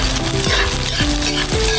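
Ginger and garlic sizzle loudly in a hot pan for a Filipino chicken dish, with repeated stirring scrapes cutting through the close, continuous frying hiss.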